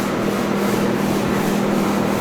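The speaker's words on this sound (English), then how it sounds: "gonna follow up with the other sander for that" A sander works steadily on a wooden boat hull being shaped during restoration. It gives a continuous, close, loud rubbing hiss with a low hum underneath and no talking.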